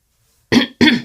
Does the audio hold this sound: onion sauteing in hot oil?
no